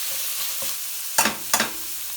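Garlic and parsley fry gently in oil over a lowered flame, giving a quiet, steady sizzle broken by two sharp stirring scrapes close by.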